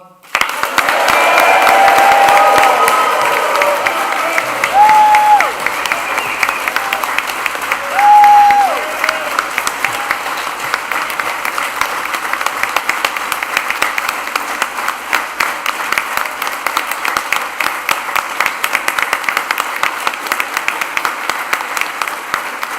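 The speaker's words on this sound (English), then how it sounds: "let's raise the roof with a huge cheer and round of applause for our graduates" A nursing and midwifery graduation crowd bursts into loud, sustained applause and cheering at an autumn 2025 ceremony, dense clapping that swells early and carries on steadily for over twenty seconds.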